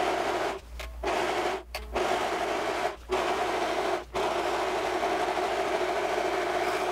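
A sewing machine stitches to gather fabric into a child's dress skirt, running with a steady mechanical hum in bursts separated by several brief pauses.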